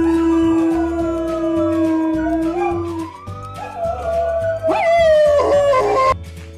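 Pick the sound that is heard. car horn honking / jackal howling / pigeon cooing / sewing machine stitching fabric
jackal howling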